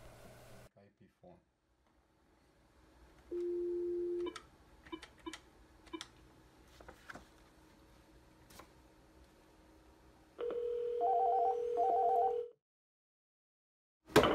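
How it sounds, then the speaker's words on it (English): Call tones from an external third-party phone dialing into a Panasonic IP phone: a steady tone burst, scattered clicks and ticks, then a longer warbling ring-back tone, separated by near silence. "Now we'll make a call between the external third-party phone to one of the Panasonic IP phones."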